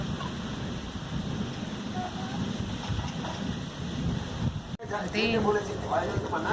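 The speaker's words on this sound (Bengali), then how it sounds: "অন্ধকারে কিছু বৃষ্টি নেই হাওয়া প্রচন্ড" Strong wind blows through darkness with no rain falling, a steady moderate rushing roar that cuts out briefly near the end before returning with a voice faintly over it.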